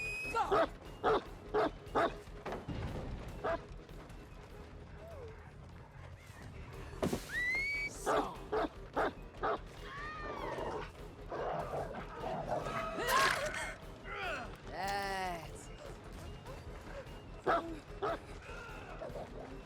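A dog in the horror game Dead by Daylight barks and yips in repeated short bursts over several seconds, mixed with game effects and occasional whimpering.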